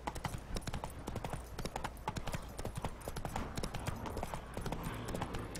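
Hooves of Roach, Geralt's horse in The Witcher 3: Wild Hunt, clip-clop in a steady, even trot throughout, with game music or ambience faintly underneath.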